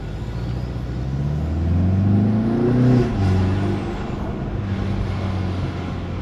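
A BMW with a B48 four-cylinder engine and an IM450 turbo is driven normally in comfort mode, giving a steady engine drone that swells briefly as it accelerates and then settles back, heard from inside with no talking.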